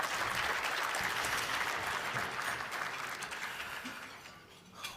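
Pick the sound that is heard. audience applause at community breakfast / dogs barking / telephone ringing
audience applause at community breakfast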